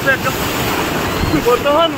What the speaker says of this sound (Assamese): আছো একদম সাগৰৰ মাজত